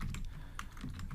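Computer keyboard typing code for an Android note app, a quick run of crisp, close key clicks over about a second.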